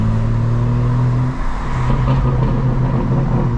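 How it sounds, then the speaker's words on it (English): Deep, rumbling exhaust from a 2025 BMW M4 Competition xDrive with valves open in sport mode, burbling steadily up close and echoing off city buildings, with a low engine drone and no voices. "burbles always sound best, ricocheting off the city"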